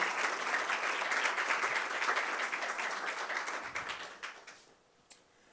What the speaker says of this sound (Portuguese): Palmas para a Sofia.